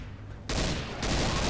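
Gunfire in the zombie shooter Left 4 Dead 2, a quiet lull followed by sudden loud sustained shooting that swells again near the end, with no talk over it.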